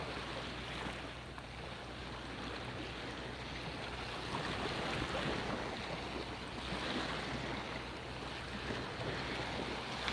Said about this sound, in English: The tide is coming in and coming in hot.